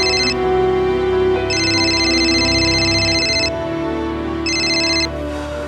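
A telephone ringtone rings in repeated bursts with short gaps between them, loud and close. It plays over a low background bed in a police station scene from a crime drama.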